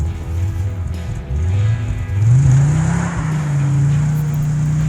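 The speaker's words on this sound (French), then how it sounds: "Très difficile de retrouver une étanchéité parfaite du collecteur d'échappement de ces 5 cylindres après un démontage, comme vous l'entendez durant ces séquences." An Audi 200 Quattro Turbo five-cylinder engine with a leaking exhaust manifold revs up in a loud, close rise, dips, then climbs again and holds a steady high drone.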